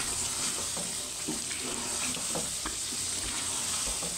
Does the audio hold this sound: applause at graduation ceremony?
no